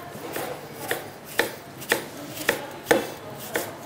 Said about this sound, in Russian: И режем тоже ломтиками тоненькими.